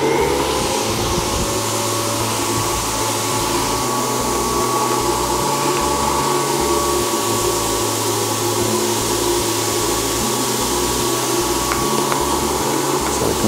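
The vacuum bed of a screen printing press runs with a loud, steady motor whir and airflow hiss, holding an even drone throughout with no talking.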